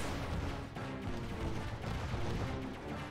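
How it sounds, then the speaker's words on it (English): Missiles launching and exploding in the Aegis Wing video game, a dense run of booms and blasts with dull low thuds, loud and constant without pause. "Dang, those missiles are OP."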